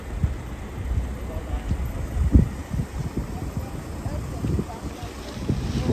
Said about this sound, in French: J'espère que tu m'entends avec le vent.